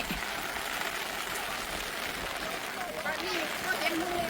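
Steady rain hisses all the way through at Ba Na Hills, Da Nang, Vietnam, with a soft spattering texture and no clear breaks.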